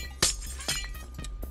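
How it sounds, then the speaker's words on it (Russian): Glass blocks breaking in Minecraft, three crisp shattering crunches in quick succession over a low steady hum, the first the loudest. "ломаем стекло"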